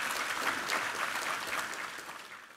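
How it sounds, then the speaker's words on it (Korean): A church congregation claps during a sermon in praise, a fairly soft but dense wash of applause that stays steady and then begins to fade. "우리 하나님께 감사와 영광의 박수 올려드리겠습니다."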